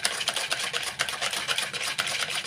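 Batter being whisked after a teaspoon of salt is added: a quick, steady run of scraping strokes, close and fairly loud, with no one speaking.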